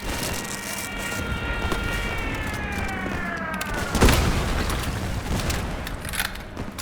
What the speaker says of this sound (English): The most important things look really nice, which are the explosions.